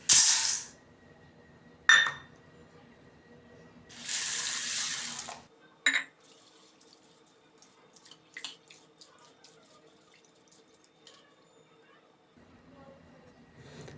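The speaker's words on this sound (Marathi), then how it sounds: "डाळ मी इथं स्वच्छ पाण्याने धुवून घेतले" Toor dal is rinsed with clean water in a bowl under a tap: bursts of loud running water and splashing, then quieter sloshing and clinks, with faint background noise.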